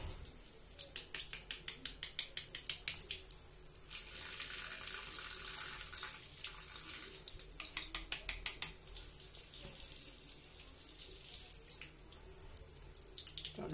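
Tap water runs and splashes while a clogged K5 sanitizer spray gun is rinsed under it, the stream steady and quiet with bursts of rapid dripping and rattling, close by and without speech.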